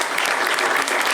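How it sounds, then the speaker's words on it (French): Audience applause during a start-up interview, a brief dense burst of many hands clapping, steady and fairly loud for about a second. "On peut applaudir ça"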